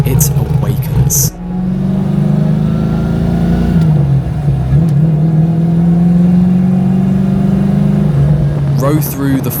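A 1967 Shelby Mustang Fastback with a Terminator X–managed engine cranks and fires, then settles into a loud, steady idle and revs through a MagnaFlow Street Series exhaust, a brief dip and swell in the middle before the engine cuts near the end.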